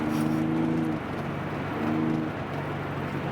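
A Nissan Fairlady 300ZX twin-turbo engine hums steadily from inside the car while driving, with road rumble and a slight drop in engine pitch partway through.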